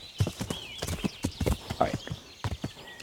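A horse in the medieval video game Kingdom Come: Deliverance gallops at speed, a rapid run of heavy hoofbeats with faint ambient game sound underneath.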